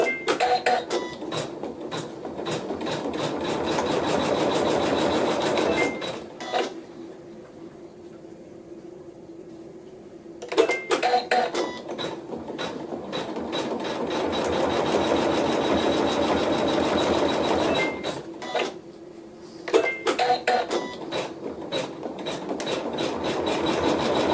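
An embroidery machine slowed right down stitches in steady rasping bursts, a dense mechanical chatter that stops twice for a few seconds of near-quiet before starting up again, close by and with no talk.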